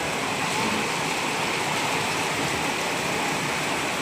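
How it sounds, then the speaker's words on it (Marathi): Unseasonal downpour with hail in Maharashtra, a loud, dense and constant rushing roar of rain close by, steady from start to finish with no talking. "बघा फ्रेंड्स, बिनमौसम बरसात होत आहे, पाऊस येत आहे."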